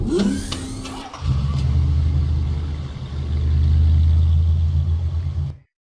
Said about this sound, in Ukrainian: Виїхав фіолетовий автомобіль поліції.